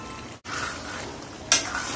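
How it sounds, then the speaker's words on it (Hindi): Yogurt frying with spices in a pan, a soft steady sizzle with stirring, a brief pause near the start and a sharp metallic clink of a utensil partway through. "अब दही को 5 मिनट और इन मसालों के साथ भूनूंगी"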